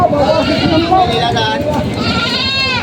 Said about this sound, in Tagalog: Kung mapapansin niyo po, ito po yung mga kambing.